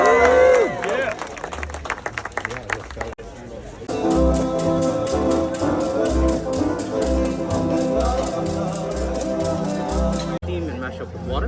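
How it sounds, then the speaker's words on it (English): An audience at an outdoor Hawaiian luau in Maui claps and cheers in a sustained round of applause, close and lively, with crowd chatter and background music mixed in. "One more round of applause for them."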